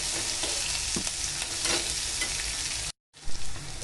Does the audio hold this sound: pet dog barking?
no